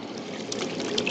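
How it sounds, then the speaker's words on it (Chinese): Washed beef and water poured into a pot on the stove, a short close liquid splash and trickle with no speech. "把清洗好的牛肉倒入到锅中"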